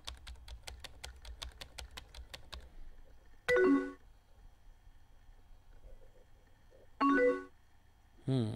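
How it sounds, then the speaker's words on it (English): Keys clatter in a quick run of evenly spaced taps on a computer keyboard while playing the chat game Emily is Away Too, then two short chat-alert chimes ring out after pauses, with a third starting at the end. "I'm typing slower this time."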